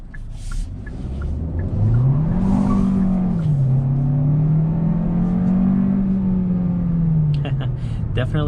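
A 2022 Hyundai Sonata with a turbocharged engine accelerates hard through a turn with traction control off and sport mode on, its engine note climbing and wavering as the wheels spin, heard from inside the car.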